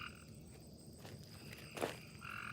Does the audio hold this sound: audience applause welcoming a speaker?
no